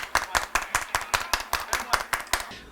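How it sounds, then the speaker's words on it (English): Hands clap in a quick, steady rhythm, about five claps per second, close and clear, as a small group claps along together before stopping. "Everybody clap your hands."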